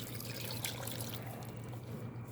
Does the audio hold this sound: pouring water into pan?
yes